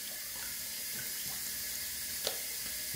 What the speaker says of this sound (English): Get some cold water on the face.